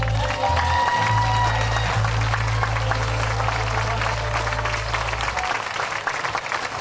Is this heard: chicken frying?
no